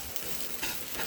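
Garlic and onion frying in a pan for shrimp fried rice give a dense, steady sizzle that stays close and even throughout, with no voices.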